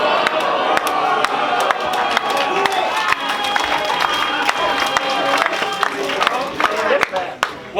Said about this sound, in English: Judging by that round of applause there, the audience wants it